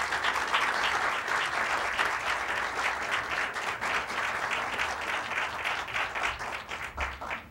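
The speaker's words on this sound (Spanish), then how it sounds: "fuerte aplauso" Steady audience applause welcoming a speaker at a formal lecture, many hands clapping together at moderate volume for several seconds and tapering slightly toward the end.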